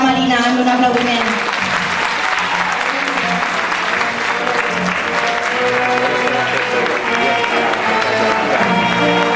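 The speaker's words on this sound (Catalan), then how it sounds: "Anem a animar un poquet a Marina amb un aplaudiment" Sustained audience applause at a Valencian Fallas presentation of falleras mayores, a dense crowd clapping steadily throughout with some voices mixed in.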